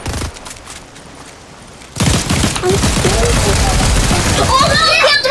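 Dense gunfire from a Fortnite Battle Royale match, with a burst of rapid shots starting partway through and continuing loud and close under excited players' talk.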